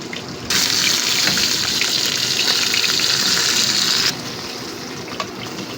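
Onion, ginger and garlic sizzling in a pan with chicken for a Filipino-style biryani, a steady loud hiss of frying that holds for about four seconds, then drops to a quieter sizzle.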